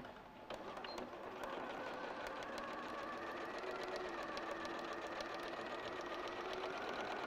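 Sewing machine stitching fabric for a strapless gown, a steady fast mechanical whir with rapid needle ticks, close and constant for several seconds with no talking.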